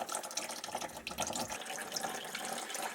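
Coolant draining out of a Suzuki GSX1300R Hayabusa motorcycle radiator, a steady faint trickle and splash of liquid with light irregular gurgles, heard alone and up close for a few seconds.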